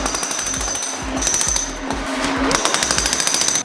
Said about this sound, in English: We use an electric rotary hammer.